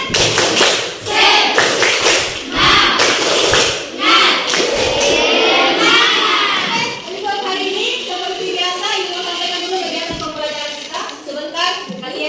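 Students in a classroom perform a clapping chant, rapid patterned claps mixed with group voices at first, then a teacher speaking over quieter room noise.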